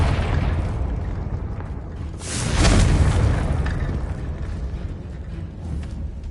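A Confringo blasting curse explodes in a Harry Potter video game, one booming burst a couple of seconds in that swells and fades into a low rumble over a steady background hum.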